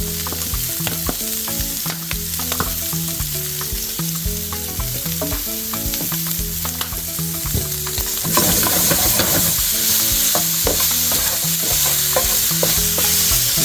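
Broccoli and shrimp stir-fry in a pan, a loud, continuous close sizzle with scraping stirs that grows hotter partway through, over steady background music.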